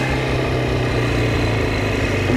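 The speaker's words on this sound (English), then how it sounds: "And the bike runs so great." Jawa 350 motorcycle engine running, a steady unbroken drone at constant speed close by, with no voices.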